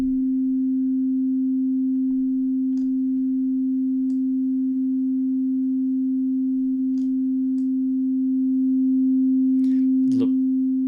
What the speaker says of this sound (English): Let's go back to our sine wave